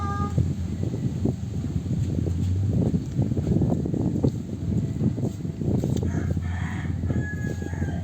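A large black native rooster crows among other chickens, its calls rising over a busy, clucking farmyard backdrop with a couple of higher cries near the end.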